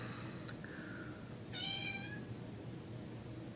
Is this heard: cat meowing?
yes